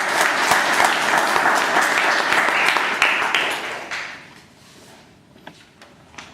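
Applause at a speech club meeting, a roomful of people clapping briskly and fairly loudly for about four seconds before it thins out to a few scattered claps and near quiet.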